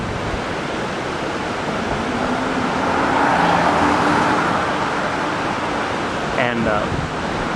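Cars pass on a road near a cliff, heard as a steady wash of tire and traffic noise mixed with wind, rising a little in the middle, with no voices.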